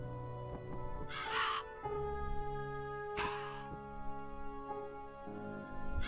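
Crows cawing in the video game DarkMaus, several harsh caws spaced a second or two apart over a steady droning ambient music bed, moderately loud and with no talk.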